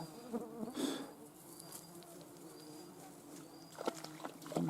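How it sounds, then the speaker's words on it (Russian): Mosquitoes buzz on an outdoor fishing trip, a faint thin whine hovering close around the listener, with scattered soft outdoor noises and a brief splash near the end. "Ох, комаров сколько."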